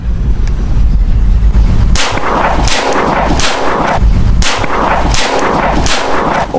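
Several loud, sharp shots from a Kuzey 1911 Colt Defender 4-inch blank pistol crack at irregular intervals, each with a brief ringing tail, over a constant background hum.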